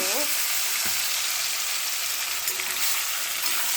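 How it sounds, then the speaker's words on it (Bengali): Prawns hit hot oil with nigella seeds in a kadai and set off a loud, steady, dense sizzle that holds for a few seconds, with a brief bubbling burst at the start. "এবার চিংড়ি মাছটা আমি দিয়ে দিচ্ছি বন্ধুরা।"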